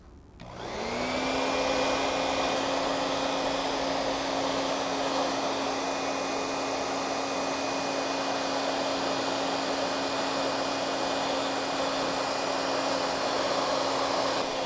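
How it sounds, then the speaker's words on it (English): A hairdryer blows steadily on a motorcycle helmet's Pinlock visor, a loud continuous whooshing airflow with a faint high whine that runs unbroken for the whole stretch with no talking. "I would keep moving this hairdryer around because you don't want to melt it."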